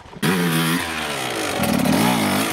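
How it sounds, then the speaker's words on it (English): A Sherco 125 SE two-stroke enduro motorcycle on a hard enduro log obstacle: a loud, close engine jumps in suddenly, revs high, briefly dips, then climbs again in a buzzing, raspy whine. No one speaks. "She is riding a Sherco 125 SE, which is incredibly light but naturally has less grunt."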